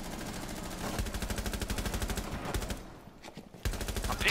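Rapid automatic gunfire in Rainbow Six Siege, a dense, fast burst of shots lasting about two seconds. A brief lull follows, then another loud blast.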